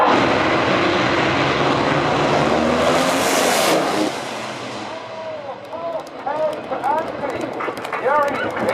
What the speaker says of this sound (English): this next clip of two drag racers racing against each other